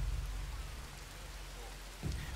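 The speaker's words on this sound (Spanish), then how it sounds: "Y encima que está lloviendo" Steady rain hisses softly in the survival game Dawn of Man, a constant wash of falling drops with a low rumble briefly swelling near the end.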